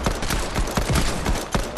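Gunfire in the video game Fortnite, with a rapid string of sharp, loud shots cracking in quick irregular succession and barely a pause between them.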